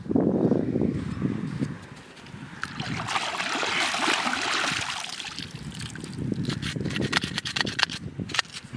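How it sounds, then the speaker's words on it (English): Water splashes and trickles over a gritty Glock pistol during a rinse, a continuous close wash that gives way to a patter of drips. "I'm gonna give it one more rinse, and then the Glock may be done for now."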